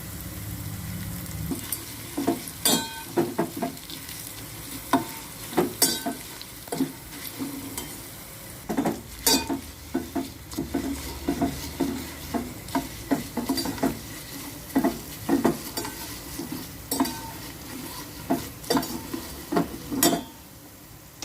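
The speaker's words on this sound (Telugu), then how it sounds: "తాలింపు వేగిపోయింది." Oil tempering with asafoetida for a yellow cucumber pickle sizzles in a pan, with repeated sharp scraping stirs of a spoon at an irregular rhythm over the steady frying crackle, close up.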